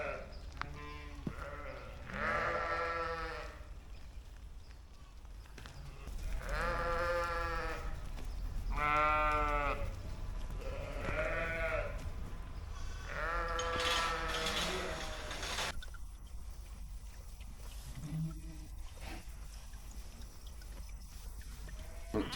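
Sheep and lambs on a British farm bleat repeatedly, several loud, wavering calls from close by with short pauses between them.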